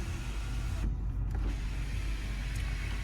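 The electric sunroof motor of a 2006 Cadillac DTS runs inside the car as a low, steady mechanical whir with slight creaks, heard close and alone for about three seconds.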